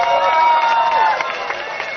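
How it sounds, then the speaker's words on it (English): A large crowd at a political election rally in Choa Chu Kang cheers and shouts together, a sustained, fairly loud roar of many voices with a rising tone near the start that settles into a steady wash. "I would like to hear some noise from you, okay, some cheers"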